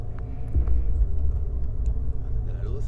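A car engine idles inside a garage at a rural farmhouse, a low throbbing rumble that runs steadily with people talking over it and a few small clicks and knocks.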